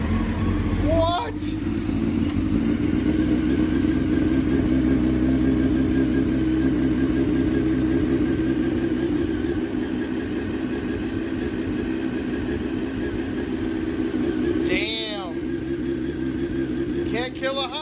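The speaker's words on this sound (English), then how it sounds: "Can't kill a Honda. That pipe actually doesn't sound too bad." A Honda CBR929RR motorcycle engine idles steadily through its exhaust pipe at close range, a loud continuous rumble with a couple of brief revs, while people talk over it.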